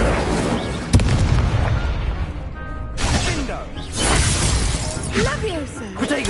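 An Incendio fire spell cast in the game Hogwarts Legacy bursts out with a sharp crackling blast, followed by more spell impacts and whooshes amid game music and a voice.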